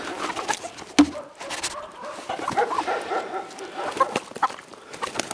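Chickens give soft, scattered clucks and murmurs nearby in a quiet yard, with one sharper knock partway through and faint background noise.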